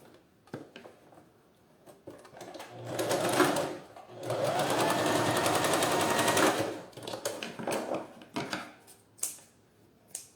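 A sewing machine stitches a synthetic toiletry bag in short rattling bursts, then one longer continuous run, with light clicks and handling noises between the runs. The sound is close and clear.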